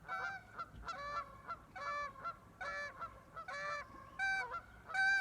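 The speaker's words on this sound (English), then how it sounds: "These geese are really pretty." Geese honk repeatedly, a string of nasal, evenly spaced calls close by, several birds overlapping without any speech.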